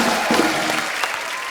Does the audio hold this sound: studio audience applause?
yes